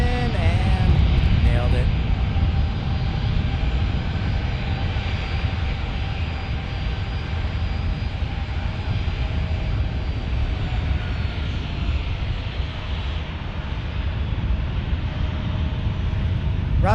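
A passenger airliner lands at San Diego's airport with a sustained, loud engine roar and rushing wind noise that holds steady throughout, while someone talks briefly over it near the start.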